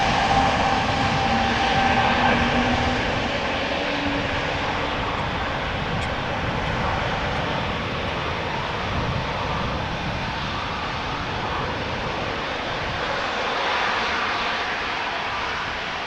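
Airplane engine throttling at Amsterdam Schiphol Airport: a loud, continuous roar with a broad whine that holds steady and swells slightly, heard from a distance over sixteen seconds without talk.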